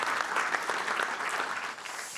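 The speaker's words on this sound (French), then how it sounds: "Je vous invite à applaudir à nouveau" An audience claps for the participants at an urban soils and nature conference, a dense, even round of applause that fades slightly toward the end.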